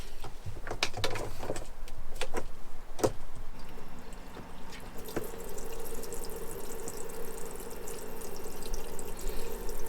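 Water sprays from a camper truck shower fed by a pressure pump, a steady close hiss with a low pump hum beneath and scattered clicks and drips near the start, running continuously with no one talking.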